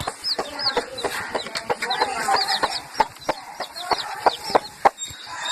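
Free-range country hens cluck and chatter close by in a backyard flock, with a busy overlapping run of clucks and sharp tapping or pecking knocks scattered irregularly throughout.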